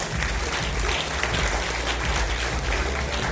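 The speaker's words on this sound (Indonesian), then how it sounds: "kita tepuk tangan dulu buat leader saya Pak Rudi dan Pak Thomas" An audience at a business talk applauds its leaders Pak Rudi and Pak Thomas, the clapping thick and continuous throughout.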